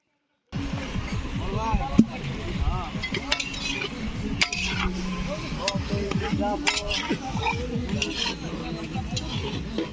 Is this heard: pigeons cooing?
no